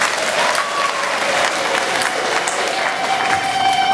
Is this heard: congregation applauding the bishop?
yes